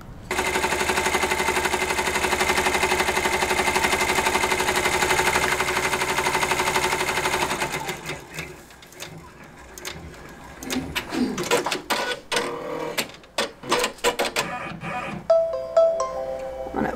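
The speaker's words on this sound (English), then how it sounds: "Let's go over to the machine and stitch out this last block." An embroidery machine stitching out a quilt block hammers in a fast, steady mechanical rattle for several seconds, then shifts to irregular clicks and bursts of stitching, close and fairly loud.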